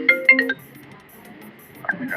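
In a TV drama, a phone ringtone plays a quick burst of bright electronic tones at the start, then falls quiet before a fainter chirp returns near the end.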